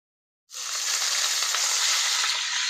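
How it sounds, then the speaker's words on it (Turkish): Meat frying in melted tail fat in a steel pan for sac kavurma, a loud steady sizzle bursting in suddenly after a moment of silence and holding on, with faint stirring beneath. "Evet, çelik tava olduğu için hızlı bir şekilde karıştıracağım."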